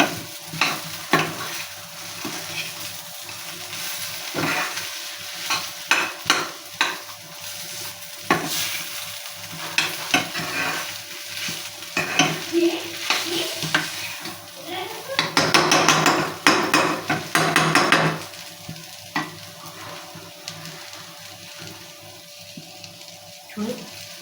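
Brinjal (eggplant) fries in oil for vankaya fry, a close sizzling hiss punctuated by repeated clanking stirs of a spoon against the pan, with a louder burst of frying midway and faint talk in the background.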